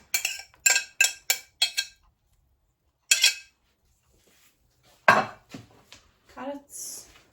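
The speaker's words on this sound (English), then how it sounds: "Onions in. All chopped. All chopped." Chopped onions tipped into a soup pot, heard as a quick run of five sharp knocks and clatters, then a lone clunk, and a few softer scrapes and taps near the end, with no one talking.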